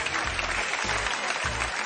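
Studio audience at a Romanian magic show claps in a dense, steady wash of applause, loud and continuous throughout the short stretch.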